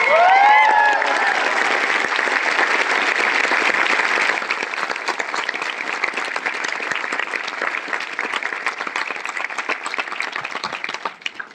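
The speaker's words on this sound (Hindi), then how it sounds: "मैं चाहता हूँ यार खड़े होके मेरे घर वालों के लिए एक बार जोरदार क्लैपिंग हो जाए" A seated audience at a motivational business seminar in India gives loud, sustained applause, many hands clapping together in a dense roar, beginning with a brief whoop and fading slightly toward the end.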